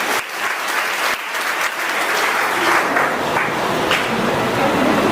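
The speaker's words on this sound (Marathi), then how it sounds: "सर्व स्पर्धकासाठी चांगल्या कडकडाळून आणि जोरात टाळ्या होऊ द्या" An audience in a school hall at a student speech competition claps loudly and steadily. The dense applause builds and holds for several seconds.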